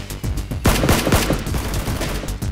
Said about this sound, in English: All the criminals upstairs hear the gunshot and quickly rush to check the situation.